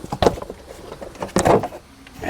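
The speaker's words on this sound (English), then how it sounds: "We're going to pull our engine cover, get a little bit more room here." A plastic engine cover is pulled off a 2013 GMC Acadia, giving a few sharp, close clunks and rattles of plastic knocking against the engine, with short scraping between them.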